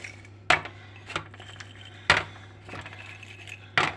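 Ceramic cooking pots filled with potatoes, meat and peas being shaken, giving three sharp clattering knocks with lighter rattles between, close and clear over a low steady hum.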